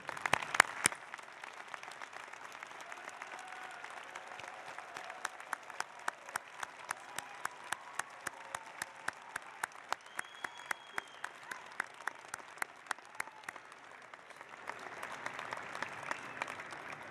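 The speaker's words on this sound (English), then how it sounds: "A round of applause." Applause from family and friends at a graduate fall commencement ceremony: a long, sustained roll of clapping in a large hall, even and moderately distant, easing off near the end into crowd murmur.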